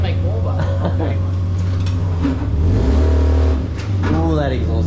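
A Holden VL Commodore with an RB30 engine and an exhaust leak revs hard on a dyno, a loud, close, rising engine note with raspy harmonics, while people talk over it.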